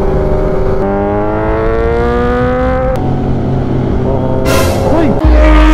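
A Ducati Panigale motorcycle with dual exhaust, undertail and underbelly, revs up close with rising engine pitch in several pulls, while a voice talks over it.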